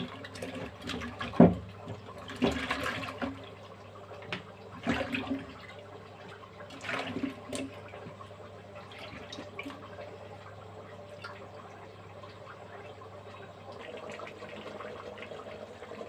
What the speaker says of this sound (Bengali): পেঁপেগুলো ভালো করে ধুয়ে নিব।